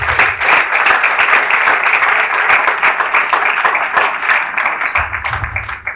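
An audience at an aviation careers conference applauds steadily, a dense wash of clapping that stays loud and even for several seconds and thins slightly near the end.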